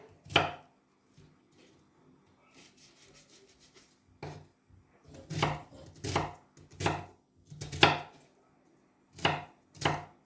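Sharp knife chops land on a board in loud bursts while chopping meat for Hungarian goulash, single strikes and quick clusters, separated by short quiet gaps and a faint rubbing noise.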